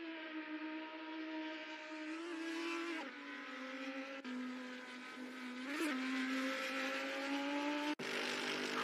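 An Audi race car in a virtual racing game holds a steady engine drone that rises and falls through gear shifts, with sharp cuts between sounds and no talking.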